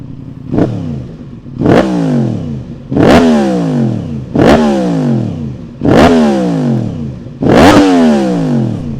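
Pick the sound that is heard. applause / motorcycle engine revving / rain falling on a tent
motorcycle engine revving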